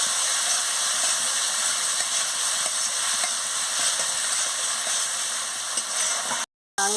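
Potatoes and spices sautéing in a pan for a cabbage fritter curry give a steady, loud sizzle with faint stirring scrapes that cuts out briefly near the end.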